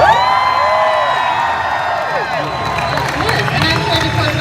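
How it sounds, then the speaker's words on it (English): A Comic Con 2016 crowd cheers and whoops loudly and continuously for Stan Lee's appearance, with shouts and applause filling the space close by. "quite a crowd to see him, presenting Mr. Stan Lee"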